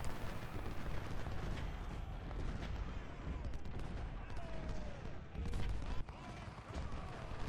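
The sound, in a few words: artillery fire in Ultimate General: Civil War video game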